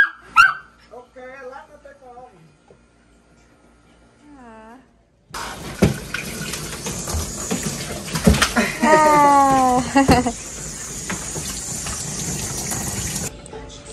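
A pet dog being bathed gives high, whining whimpers and yelps, first over quiet room tone, then under a loud, steady rush of running tap water, with people talking and laughing nearby.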